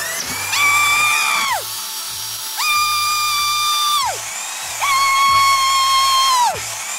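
A power drill runs in three separate bursts, each with a high whine that spins up, holds steady for about a second and a half, then winds down, with short pauses between the bursts.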